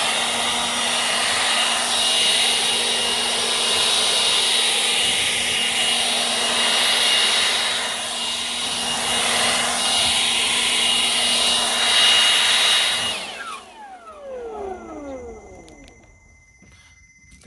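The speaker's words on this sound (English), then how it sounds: "I'll give y'all a demonstration of, I'll blow some leaves with this" A Stihl gas-powered leaf blower runs steadily at full throttle, a loud, close, continuous roar with a fixed engine whine, then winds down and fades to idle near the end.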